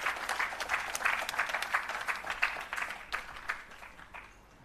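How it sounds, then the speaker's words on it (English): Applause from a conference audience at a restorative justice event, a steady stretch of many hands clapping that fades out gradually over about four seconds, with no voices over it. "Please give me a round of applause for Mr."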